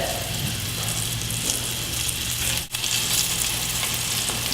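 Food frying in oil in a pan while making a salad, a loud, dense sizzle that holds steady with a short break in the middle, and no speech over it.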